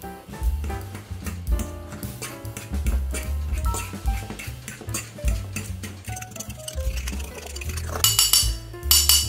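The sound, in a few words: crushing raspberries with a fork, with sugar and rum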